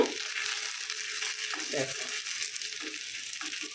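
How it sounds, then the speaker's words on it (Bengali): Chopped onions fry in oil on a stovetop until light golden for a beef bhuna, giving a steady soft sizzle throughout with occasional brief stirring and utensil clinks over it. "এখন লাইট গোল্ডেন করে পেঁয়াজটা ভেজে নেব"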